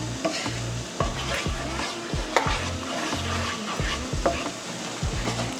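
A whisk scrapes and clinks rhythmically against a pan as sauce is stirred over medium heat on a stove, with repeated strokes over a soft sizzle, fairly quiet and close.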